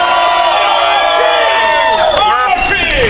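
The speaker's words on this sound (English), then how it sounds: "make some more noise" Loud, continuous cheering and whooping from a big crowd at an outdoor Tea Party rally in Austin, Texas, in the rain on Tax Day 2010, with some clapping and overlapping shouts throughout.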